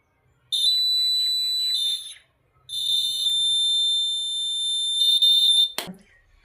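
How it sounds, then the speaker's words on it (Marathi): A laser security alarm circuit's buzzer sounding, a loud shrill electronic tone in two long bursts separated by a short gap, then a sharp click as it cuts off. "ज्या वेळेस आपण लेझर बंद करू त्यावेळेस बझर वाजतो"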